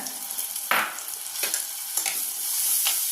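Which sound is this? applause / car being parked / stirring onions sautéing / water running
stirring onions sautéing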